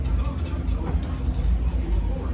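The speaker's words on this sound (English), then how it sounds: "welcome aboard the Disneyland Railroad" Low, steady rumble of the Disneyland Railroad rolling along, with a continuous engine drone and faint voices underneath.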